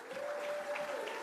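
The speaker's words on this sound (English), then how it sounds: "How about a round of applause for that whole group?" Steady round of applause from a banquet crowd at a speedway awards dinner, even and sustained for a short stretch.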